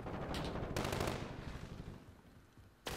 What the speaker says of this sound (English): Love getting shot right out of spawn.